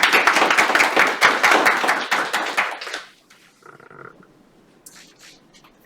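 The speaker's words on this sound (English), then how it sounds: "Please join me in giving a warm round of applause to our esteemed guest speaker" An audience gives a guest speaker a burst of applause that lasts about three seconds and then stops abruptly, leaving a quiet room with faint scattered sounds.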